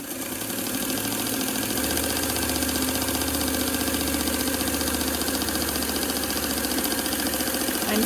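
A sewing machine stitches the long sides of a fabric face mask, running as a steady, rapid mechanical chatter for several seconds without pause, close and clear.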